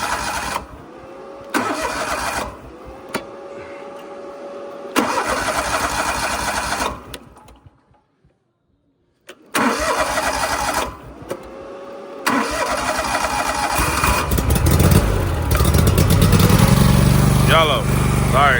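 A Dutch Witch trencher engine is started after the choke is pulled. It cranks and catches into a loud, buzzing idle, cuts out briefly, then restarts and runs steadily with some revving toward the end.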